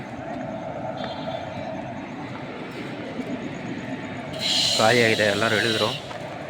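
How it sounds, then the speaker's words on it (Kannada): A Dadar-bound train rolling through Tumkur railway station, a continuous low rumble of wheels on track, with a loud horn-like wailing tone blaring briefly near the end; people talk over it. "ಇದೊಂದು ದಾದರ್ ಟ್ರೈನ್ ಹೋಗ್ತಿದೆ."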